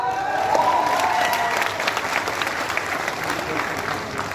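Steady applause from an audience fills a hall at a Modicare event at Patna Memorial Hall, dense and continuous clapping with a voice speaking over it.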